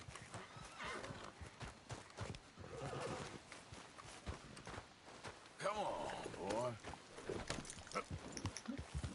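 A horse in the Red Dead Redemption II video game whinnies with a rising-and-falling neigh amid clip-clopping hooves, fairly close, with a person talking throughout.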